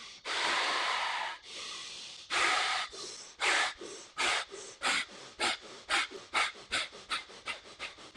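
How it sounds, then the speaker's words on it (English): Deep, forceful breaths in a pranayama breathing exercise: long drawn inhales, then a quickening series of sharp, rhythmic nasal exhales, close and clear with no talking. "Deep inhale."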